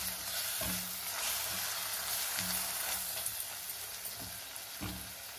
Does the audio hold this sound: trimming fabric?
no